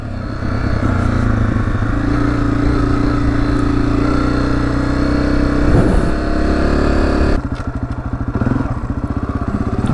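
A Honda CRF250F dirt bike rides across the Arizona desert, its single-cylinder engine droning loud and close with a steady throttle and rough off-road clatter, then dropping to a choppier, pulsing note near the end.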